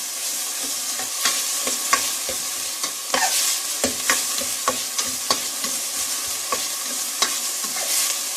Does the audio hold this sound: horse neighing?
no